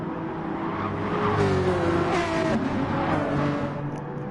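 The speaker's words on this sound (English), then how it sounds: "Love the sound of that Hyundai." Hyundai race car engine in the GT Sport video game, a steady loud revving drone with pitch rising and falling as it accelerates, continuous throughout without talk.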